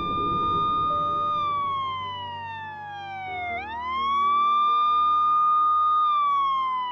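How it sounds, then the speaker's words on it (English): Police sirens from an anti-drug public service announcement wail loudly and continuously, a sustained tone sliding down then sweeping back up, close and alone with no voices. "what's with the sirens?"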